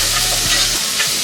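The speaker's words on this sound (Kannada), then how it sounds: "ಒಂದು 30 ಸೆಕೆಂಡಷ್ಟು ಈ ಪೌಡ್ರ್ ಹಾಕ್ಕೊಂಡಿರೋದನ್ನೆಲ್ಲ ಮಿಕ್ಸ್ ಮಾಡಿಕೊಂಡು ಫ್ರೈ ಆಗೋದಕ್ಕೆ ಬಿಡೋಣ." Turmeric and basic masala powder stirred and fried in a pan for a tomato kurma, giving a brief, close sizzle with scraping stirring strokes.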